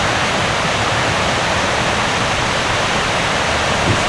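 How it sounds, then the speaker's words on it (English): Steady, full rush of a waterfall in Ireland, a constant broadband roar heard close and alone without any break. "Right on top of the waterfall."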